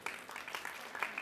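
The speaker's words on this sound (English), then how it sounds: "Big round of applause, ladies and gentlemen." Audience applause for a college student at a national college event with a film actress present, a steady patter of many hands clapping at moderate, fairly distant level, with faint voices underneath.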